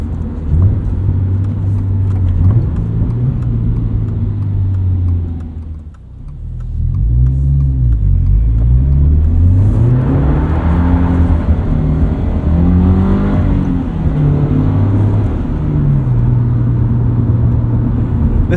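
A 2022 Subaru BRZ engine revs and accelerates repeatedly, climbing through gears with a loud, close growl, briefly easing off before pulling hard again.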